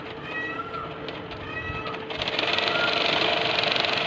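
A sewing machine stitches a suit up close, running in a steady fast rhythm that speeds up about halfway through, with faint tonal sounds over it in the first half.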